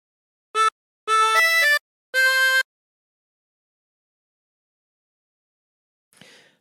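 A chromatic harmonica plays the opening notes of a tune as a few bright, reedy held notes in a short phrase, followed by silence and a faint breathy noise at the end.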